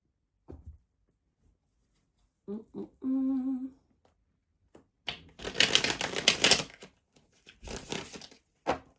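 Dry crackling rustle of tarot cards being shuffled, two bursts of riffling in the second half after a few soft taps and a brief hum.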